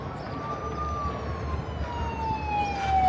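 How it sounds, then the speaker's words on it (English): A small vehicle's siren wails in long, slowly falling tones over New York City street traffic and crowd noise, growing slightly louder toward the end. "He's got a little siren going and beeping at people."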